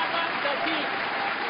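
Steady, dense applause and cheering from the crowd at a 2008 Japan Open badminton men's doubles match, continuous and fairly loud for a brief stretch.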